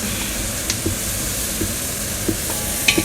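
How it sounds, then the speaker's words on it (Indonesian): Onion sizzling as it fries in a pan, a steady hiss of frying with soft clicks of stirring scattered through, close and alone without voices. "Nanti saya pakein ini saya goreng dulu"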